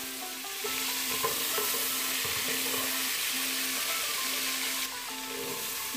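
Ginger garlic paste fries in a pan for a vegetable biryani, a steady close sizzle with occasional stirring scrapes and a faint low hum, growing louder after the paste goes in and easing slightly near the end.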